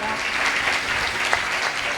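A church congregation claps loudly during a sermon, with dense, steady applause that lasts the full two seconds and has one sharper clap standing out near the end.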